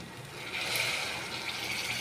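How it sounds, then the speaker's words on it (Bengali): A little water is poured into a pan of spiced rohu fish curry, a soft, steady, close trickling splash that lasts a couple of seconds. "হালকা একটু পানি দিলাম"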